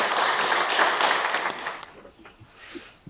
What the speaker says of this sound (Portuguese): Graça, uma salva de palmas.